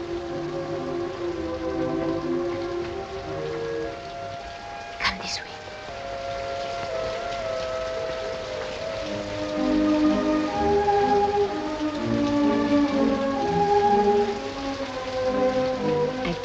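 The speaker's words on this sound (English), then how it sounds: "Oh, it's raining." Steady rain falls outdoors in a 1954 comedy film scene, with a hiss that swells louder partway through. Film music and people talking run over it.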